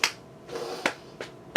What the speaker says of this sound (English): You can't do it when I'm tapping out the Mario Brothers theme song.